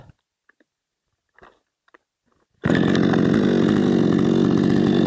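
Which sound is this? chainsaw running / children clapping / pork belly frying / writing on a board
chainsaw running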